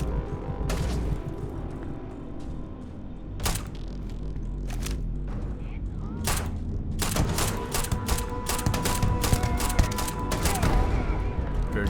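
Gunfire and grenade blasts in the space-combat game Starfield: sharp repeated shots and bursts, sparse at first then rapid and clustered, over a low rumbling game backdrop with no voices.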